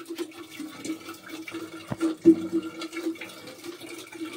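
Water pours steadily into a container at a home water point, a continuous faint rushing and gurgling fill with a couple of brief knocks partway through, no talking.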